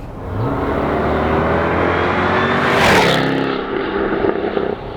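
A 2014 Jaguar F-Type V8 S engine revs up, its growl rising in pitch to a loud peak, then drops back to a rumbling idle.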